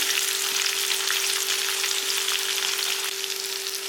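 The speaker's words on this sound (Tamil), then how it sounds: "எல்லாமே சேர்ந்து நல்லா கொஞ்சம் வதங்கட்டும்" Onion and green chili sauté in a pan for tamarind kuzhambu with a loud, unbroken, close-up sizzle. A faint steady hum runs beneath it throughout.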